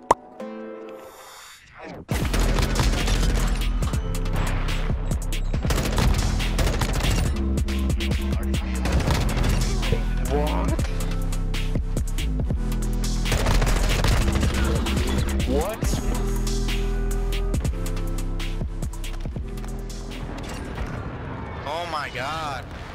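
Heavy, sustained explosions and gunfire from an airstrike in the Modern Warfare 2 video game, loud and continuous after a brief quiet start, with players talking over it.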